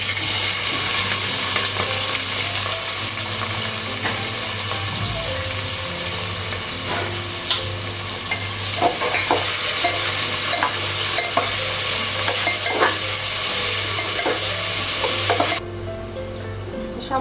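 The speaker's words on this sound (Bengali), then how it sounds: "পেঁয়াজ ফোড়ানো" Onion frying in hot oil crackles in a loud, continuous sizzle with frequent stirring scrapes and clicks, steady for a long stretch before the hiss drops off abruptly near the end.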